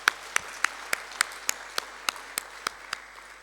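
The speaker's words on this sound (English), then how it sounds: "He deserves another round of applause." Crisp, evenly spaced claps ring out at a steady quick beat over a quiet hall at a national conference, a dozen sharp hand strikes in a row, fairly faint and without voices.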